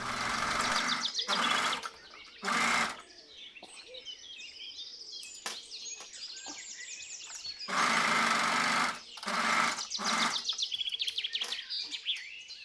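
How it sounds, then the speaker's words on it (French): Sewing machine stitching down the handle of an Italian-style fabric bag, running in several loud bursts of rapid needle buzzing separated by pauses, with faint chirping and handling noises between runs. "je vais passer sous la machine en l'appliquant plusieurs fois"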